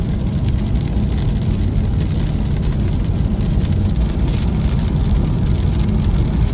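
Rain drums on a Tesla driving on AutoPilot, a steady dense hiss of drops blended with road and cabin rumble, continuous and fairly loud with no voices.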